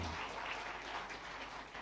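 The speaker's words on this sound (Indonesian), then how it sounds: "tepuk tangan untuk Papi Zulkifli Hasan." An audience at a political gathering applauds the chairman of the PAN party. The clapping is dense and sustained but fairly faint and distant, and it fills the whole short stretch without any talk over it.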